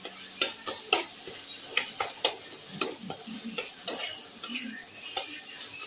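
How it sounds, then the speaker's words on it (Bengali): Chopped tomato and green chili fry with spices in a pan: a constant sizzle under repeated clicks and scrapes of a utensil stirring against the metal. "মশলার সঙ্গে এটা আমি ভেজে নিচ্ছি একটু, টমেটো কাঁচা লঙ্কাটা।"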